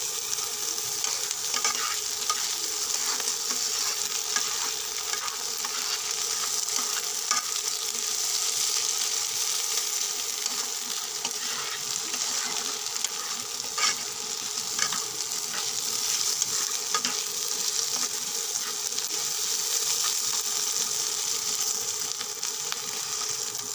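Chapa shutki, a dried fish, is stir-fried with onions in a pan. A dense, even sizzle runs the whole time, with light scraping and stirring scattered through it and no talking.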